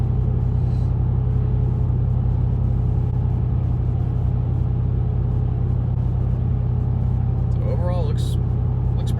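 Steady low road rumble and engine drone inside a car cruising on a highway at around 60 mph, continuous and even throughout, with a brief faint chirp near the end.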